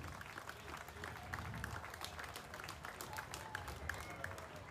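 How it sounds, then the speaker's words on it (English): Faint, distant applause from a crowd at a state fair FFA event honors a family of wrestlers, a steady patter of clapping heard from afar. "Lastly, the wrestlers from Owatonna. Please give them a round of applause."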